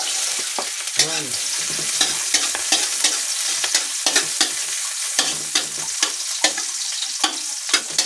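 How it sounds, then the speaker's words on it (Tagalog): Garlic and onion sauté in hot cooking oil for pinakbet, a close, steady sizzle punctuated by repeated scraping and clinking of a spatula stirring the pan. "lagyan na po tayo ng mantika. Siyempre, lagyan natin ating bawang sibuyas."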